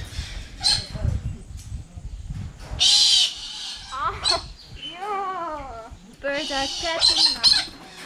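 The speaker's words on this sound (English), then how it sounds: "Birds are chatting." Macaws and cockatoos at an exotic bird enclosure squawk and chatter in bursts of harsh, wavering calls, close and loud, with people talking in between.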